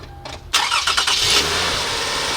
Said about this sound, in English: Let's see if we can start the car.